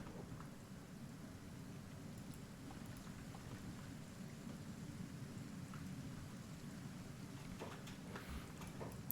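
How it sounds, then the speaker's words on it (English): Acid rain pouring steadily in the video game Kenshi, a dense continuous hiss with low rumbling beneath, constant and moderately faint throughout with no voices. "Let's get out of this acid rain first and foremost."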